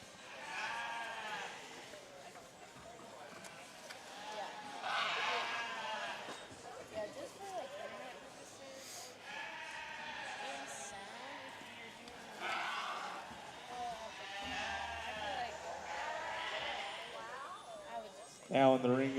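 Show lambs bleat repeatedly in a livestock sale ring at a national sheep and goat preview, their calls rising at intervals beneath a steady announcer's voice and crowd murmur throughout.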